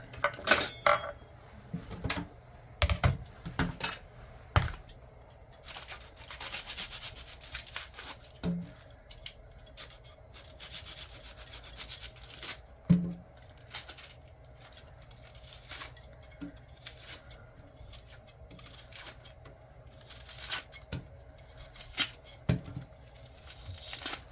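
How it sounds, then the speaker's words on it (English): Knife chopping an onion on a cutting board in a home kitchen while oil heats, a string of sharp close taps and clinks scattered irregularly over faint background hum, with occasional utensil and dish knocks. "I'm gonna cut the onion up."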